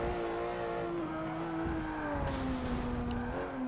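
A Porsche 911 GT3 RS races around Lime Rock in the Forza Motorsport game, its engine droning at a steady high pitch that dips slightly and climbs again, loud and continuous with no talking.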